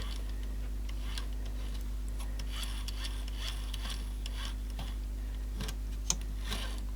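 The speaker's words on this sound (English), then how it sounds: "every one of these little slots in these gears probably wants scraping" Small scraping and ticking sounds come from a tool picking gunk out of gear slots inside a Samsung RCD1300 boombox. The scrapes are light and irregular, close up, over a steady low hum, and no one speaks.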